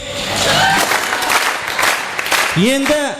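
Brief burst of applause from guests at a youth wedding party, swelling quickly then thinning. Voices call out and talk over it, with a short tonal sound near the end.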